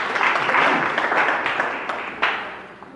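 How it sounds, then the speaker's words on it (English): Applause from an audience at a Zambian title deed handover ceremony held on behalf of a royal chieftainess, a steady crowd clapping that rises and fades over a few seconds with a few sharper claps near the end. "A clap for them."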